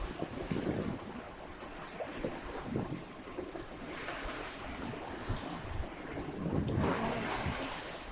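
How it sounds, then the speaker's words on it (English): Strong wind buffets a sailboat at sea, roaring steadily with gusting swells and wave wash around the hull, loud and close with no talking. "the wind picked up a little bit"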